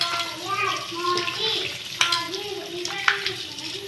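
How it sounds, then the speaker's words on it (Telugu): Pieces of coconut, readied for grating, are washed by hand in a bowl of water, giving soft splashing and sloshing with a few sharper knocks, while a person speaks over it. "కొబ్బరి అయితే ఇలా క్లీన్ చేసుకున్నాము దీన్ని అయితే కొద్దొకసారి కడిగేసి"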